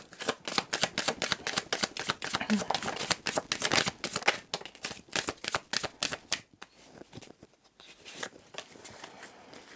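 A tarot deck shuffled by hand, rapid crisp card flicks and riffles in quick bursts, loud and close, with a quieter shuffling stretch near the end.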